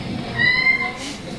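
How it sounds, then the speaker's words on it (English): A flea-infested, sick stray kitten gives a single short, thin meow over a faint background hiss, fairly close and clear. "This is most likely its kitten."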